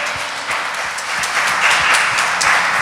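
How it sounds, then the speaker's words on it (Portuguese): A church congregation applauding during a Portuguese-language worship service, a dense, steady burst of many hands clapping that grows slightly louder, with no talking heard. "vamos aplaudir o Senhor"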